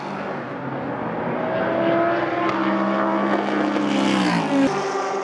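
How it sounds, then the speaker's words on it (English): A G-Drive Ligier race car leaves the pit lane during a European Le Mans Series race, its engine droning steadily and rising in pitch as it pulls away, loud and continuous with no talk over it. "Ryo Hirakawa leaves the pit lane as the race leader in the number 22"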